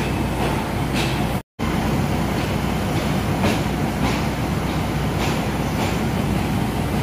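A Thai evening train pulls out of a Bangkok station, with a continuous rumbling roll and rhythmic clicking of wheels over rail joints, loud and close, briefly cutting out for a moment.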